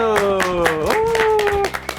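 Short bursts of clapping sound under a voice that stretches out a drawn, sung-like call, in a casual Korean golf-lesson chat setting.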